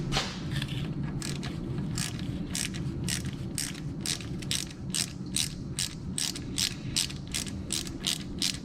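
A ratchet loosens intake manifold bolts during a SpeedFactory thermal intake manifold gasket job, giving close, steady bursts of rapid clicking that repeat in an even rhythm with no voices.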